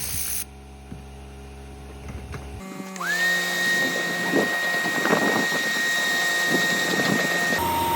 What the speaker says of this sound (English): once the air compressor is weaker, I will switch to the vacuum